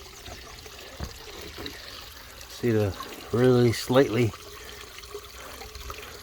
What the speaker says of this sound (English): I got the waterfall running